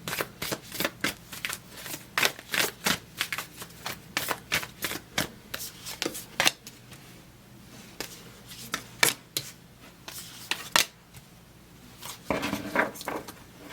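Tarot cards being laid out: repeated crisp slaps and snaps of cards handled and placed down, in an irregular series of sharp taps with brief pauses between.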